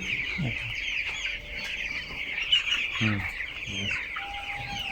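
Several broiler chickens cluck and murmur close by, short throaty calls scattered over a constant background chorus of peeping from many birds.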